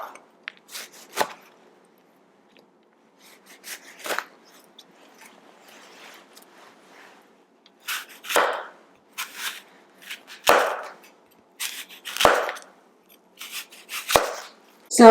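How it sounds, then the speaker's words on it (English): A knife cuts oranges and apples into round slices on a board, producing a steady series of close crisp chops and crunches with short pauses between cuts. "You just want to cut your oranges and your apples in circles."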